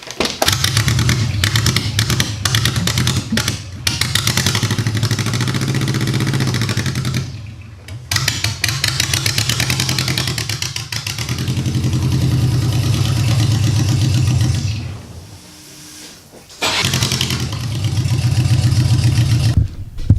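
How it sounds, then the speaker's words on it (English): An engine-swapped Porsche 914 project car runs and moves under its own power, its engine droning and clattering in uneven bursts, with several short drops in level and brief pauses between stretches of running. "I officially have a car that is engine swapped and actually drives itself."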